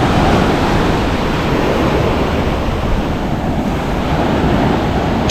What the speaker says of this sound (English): I imagine that the pull on that sea is quite ferocious at the moment